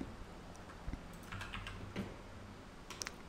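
Fingers type on a computer keyboard in short, uneven bursts of close clicks, with no voice over the keystrokes.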